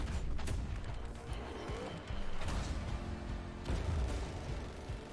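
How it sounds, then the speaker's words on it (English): Explosions from the Battlefield 2042 video game trailer boom and crash in dense, loud bursts, layered with rumbling debris and battle noise, several heavy impacts following one another without speech. "Oh, that is a nice explosion."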